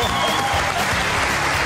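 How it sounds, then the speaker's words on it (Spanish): A studio audience at a Colombian television talent show claps loudly for the jury, a dense, sustained burst of applause from many hands with crowd noise mixed in. "Un fuerte aplauso para este jurado de tanta calidad."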